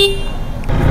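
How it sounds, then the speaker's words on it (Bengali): Horn on an Apache RTR 160 4V motorcycle, a loud close tone sounding briefly and then giving way to a rougher burst as it cuts off. "এই যে আমি সুইচটা দিয়ে দিলাম, এই যে দেখেন আমার হর্ন"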